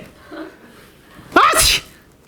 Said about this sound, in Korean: 누가 재채기를 애치라고 그래?